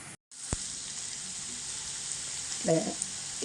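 Pav bhaji masala and chaat masala frying in a pan make a steady, close hiss of sizzling oil throughout, broken by a brief silent gap near the start and a short clank of a utensil toward the end.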